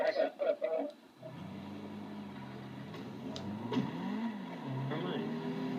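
Car engine idling and rising in a low hum as the car is moved out of the way at a car meet, steady and fairly close after a burst of talk at the start.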